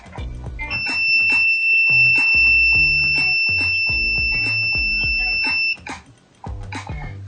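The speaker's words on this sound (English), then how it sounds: "Will beep for more or less 5 seconds when the student tries to submit the assignment" An Arduino pigeon-hole buzzer beeps to reject an unauthorized RFID card, giving a loud, steady electronic tone for about five seconds over busy background music before it cuts off.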